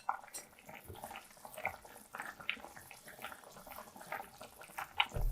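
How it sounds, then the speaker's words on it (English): Water poured into a pot of spicy cabbage vegetable soup on low heat, a soft, quiet splashing trickle that runs on for several seconds. "I'm gonna add in a little bit of water"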